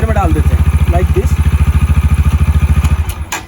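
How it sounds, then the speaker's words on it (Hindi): A TVS Apache RTR 160 4V motorcycle idles close by with a loud, even single-cylinder thump, then clunks as it is put in gear and cuts out, while someone talks over it. "जैसे कि हम इस बाइक को अभी ऑन कर लेते हैं, ये बाइक ऑन हो चुकी है"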